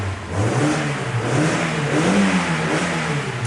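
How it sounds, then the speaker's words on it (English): Mazda MX5 engine fitted with a performance air filter revs up and down in a throaty, continuous run, close and loud with no talking. "let's see what the engine sounds like."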